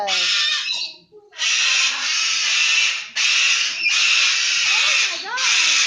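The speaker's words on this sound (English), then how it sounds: "And this is another bird." Harsh, raspy squawking from a mother bird and her chicks comes in long, loud bursts with short gaps, close by, and people talk softly between the calls.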